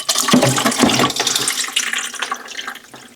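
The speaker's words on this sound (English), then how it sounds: "we're gonna get a little water that's residual from the tub. Let that go right into our bucket" Leftover water from a laundry tub runs and splashes into a bucket in a close, fairly loud, continuous trickling gush that tapers off toward the end.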